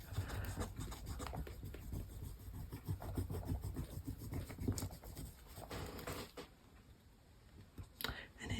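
Paper pressed and rubbed down by hand in a mixed media collage ledger journal, soft close scratchy rubbing strokes in an uneven rhythm, fading out toward the end with a few light bumps.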